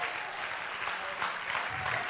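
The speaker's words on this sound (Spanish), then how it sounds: "demos un aplauso al que se lo merece" Audience clapping at an evening testimony gathering, a fairly faint, continuous patter of many hands with a few louder bursts, heard from some distance with no speech over it.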